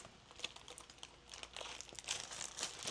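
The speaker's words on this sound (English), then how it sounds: "nice and close that seal bag, put it back in here to store it" Plastic zipper seal bag being pressed closed by hand, giving soft close crinkles and crackles in irregular bursts that grow busier toward the end, quiet and alone.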